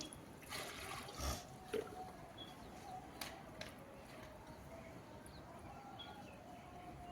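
Water is poured into a container while a homemade dry-cleaning solution is being mixed, a faint, steady trickle at low level.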